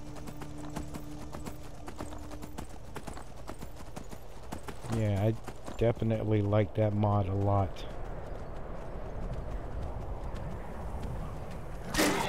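Horse hooves clip-clop at a steady rhythm while riding in the video game Skyrim, close and fairly loud, with someone talking over part of it and background game ambience.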